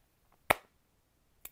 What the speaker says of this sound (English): Yes, I did have to clap.